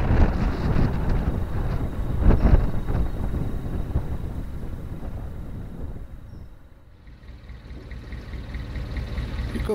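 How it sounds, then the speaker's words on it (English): Steady wind roars and buffets the microphone at an exposed narrowboat mooring, with a brief louder gust early on, easing for a moment before picking up again. "Windy old spot"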